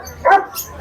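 Young classic bully dog at the Grotto pet market in Bulacan giving one short, sharp bark up close, with quiet background noise around it.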